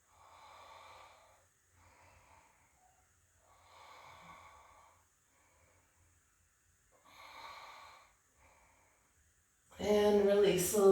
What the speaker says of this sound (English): Slow down the breath and deepen it.